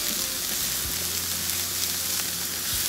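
Onion and garlic sauté in a hot pan, giving a steady, dense sizzle and crackle that holds at an even level throughout, with no talking over it.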